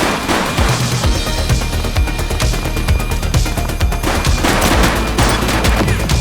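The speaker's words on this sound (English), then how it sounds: "Shots fired!" Dense, rapid gunfire from a police shooter video game, a loud sustained fusillade of overlapping shots and bursts filling the scene without pause, close and heavy throughout.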